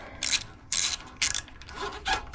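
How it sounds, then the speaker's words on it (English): A socket wrench ratchets out a spark plug on a Poulan engine, four short, loud clicking strokes separated by brief pauses, close up with no talking. "just stuck the socket in, pulling the plug out."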